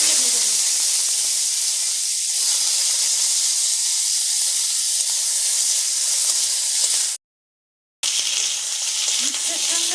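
Bitter gourd frying in hot oil, a loud, dense and continuous sizzle and hiss close by, cutting out briefly for about a second before resuming.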